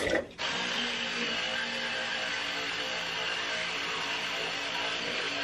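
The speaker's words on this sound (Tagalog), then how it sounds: "Electric toothbrush," An electric toothbrush buzzes continuously at close range, a steady high-pitched whir after a short bump at the start, alone without talk.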